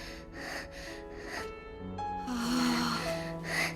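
Quick, breathy gasps and panting from an actress, overdubbed onto a tokusatsu drama scene, rise in rapid rhythm over faint tonal background music.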